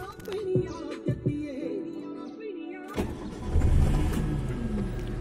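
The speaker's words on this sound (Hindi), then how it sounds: "अब मैं गाड़ी स्टार्ट कर रहा हूँ।" A 2007 Maruti Zen Estilo LXi, parked in neutral, cranks with a few short bursts, then its engine catches and settles into a close, steady idle that is briefly revved.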